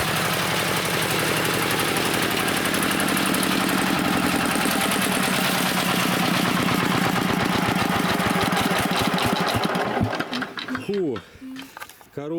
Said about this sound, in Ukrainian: Мотоблок кипить. Зараз заглушу його, вже трошки потарабонів.